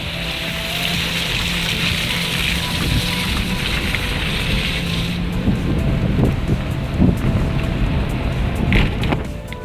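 Steady, loud rushing of river water fills the scene, a continuous broadband roar with no voices, slightly rougher and gustier toward the end.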